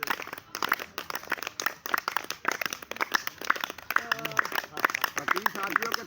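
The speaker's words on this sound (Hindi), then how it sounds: "ताली बजा ले भैया, ताली बजा ले" An audience of lawyers claps in a dense run of sharp, irregular hand claps that carries on throughout, while someone speaks over it.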